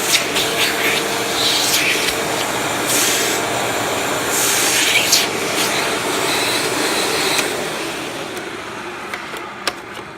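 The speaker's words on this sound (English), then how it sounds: "Hoover wind tunnel bagless twin chamber" A Hoover WindTunnel bagless twin-chamber vacuum cleaner runs loud and steady with a broad rushing motor roar and whine, faint bumps along the way and a slight easing near the end.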